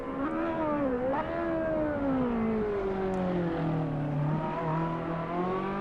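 A race car engine in a replay from the racing game Assetto Corsa hums and whines continuously, its pitch rising and falling as it revs and shifts, loud and close with no talking.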